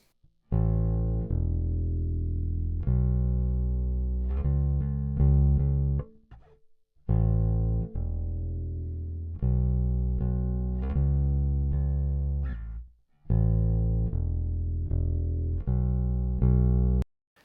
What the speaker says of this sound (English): let's listen to the bass guitar on this verse section